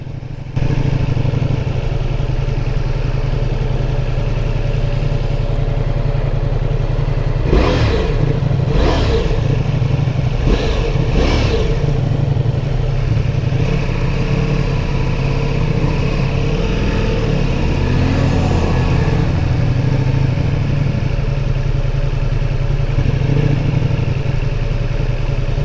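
A 170-horsepower Ducati Multistrada V4 S engine runs steadily with a deep, continuous rumble while riding, punctuated by a few brief clattering bursts, close and loud throughout.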